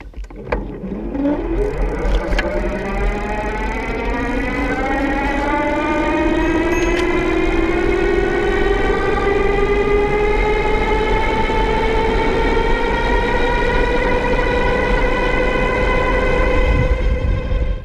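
An Ariel Rider W-Class electric bike's hub motor whines steadily on a throttle-only take-off, its pitch climbing smoothly before leveling into a loud, continuous cruising hum.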